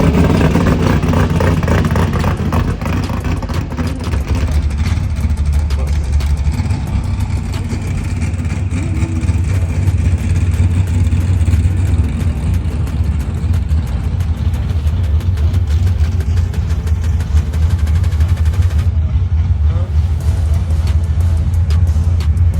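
A 1989 Ford Mustang Fox body with a small-block engine at a drag strip in North Carolina runs loud and close, holding a heavy, steady rumble with some revving.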